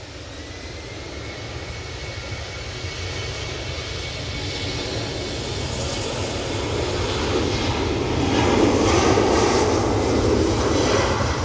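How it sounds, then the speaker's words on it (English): A Finnair Embraer E190 LR jet takes off from Manchester Airport bound for Helsinki, a steady broad engine roar that swells louder toward the end, heard alone without talk. "And there goes the Finnair off to Helsinki using the Embraer"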